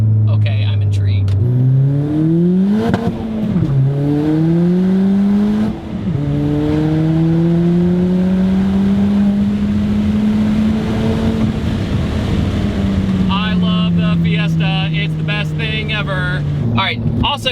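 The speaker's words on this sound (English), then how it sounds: "you get the beautiful stereotypical kind of wastegate sound" A big-turbo Ford Fiesta ST engine revs hard up close, its pitch climbing and dropping through several sweeps, with a fluttering wastegate chatter near the end; a person talks briefly.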